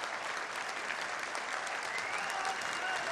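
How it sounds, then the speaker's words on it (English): A football home crowd at Chesterfield applauds a returning player, a broad wash of distant stadium clapping that holds steady, with faint voices mixed in. "Jack Lester, gets the applause of the home crowd"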